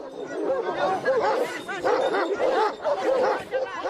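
Several dogs bark and yelp excitedly, close and continuous, with crowd chatter mixed in underneath, at a dogfight near Kandahar, Afghanistan.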